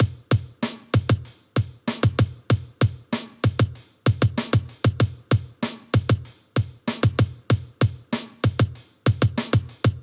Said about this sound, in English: I just played this very simple kick and snare pattern